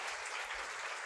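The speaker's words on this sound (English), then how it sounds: "a big round of applause to these ladies" An audience applauds a group of women at a guest lecture, a steady wash of clapping from many hands, heard alone at a moderate distance and somewhat faint.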